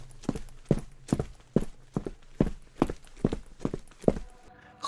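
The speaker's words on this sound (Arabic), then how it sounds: "وفجأة سمع صوت خطوات بطيئة جاية من ناحية السلم." Heavy, deliberate footsteps on a staircase at night, about ten evenly spaced thuds in a steady walking rhythm, fairly close and alone with no voices.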